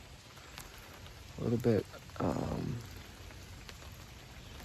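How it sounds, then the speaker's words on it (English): Light rain falls outdoors on a drab day at a Hudson Valley campsite, a soft continuous patter in the background while a person speaks briefly in the middle. "It is still raining."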